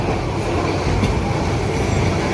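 A night train from Dhaka to Cox's Bazar rumbles steadily along the rails, a dense continuous low roar with faint rhythmic clatter, close and loud throughout.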